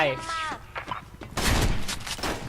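Someone talks briefly, then a loud M870 shotgun blast in the video game Special Force 2 erupts with a noisy, rattling aftermath.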